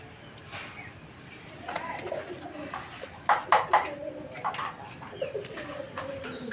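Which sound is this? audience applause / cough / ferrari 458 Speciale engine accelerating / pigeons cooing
pigeons cooing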